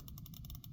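Rapid, light plastic clicks in quick succession, close up and crisp, as the mouse-click triggers on a GameSir Tarantula Pro controller are pressed repeatedly.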